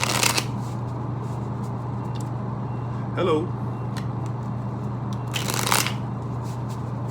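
Tarot cards being shuffled by hand in a few brief riffle bursts near the start, middle and end, over a steady low hum, with a short spoken greeting.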